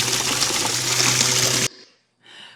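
A bottle being filled on a glacier in New Zealand with thousand-year-old glacier water, a steady close gushing pour that cuts off abruptly, followed by a brief quieter trickle.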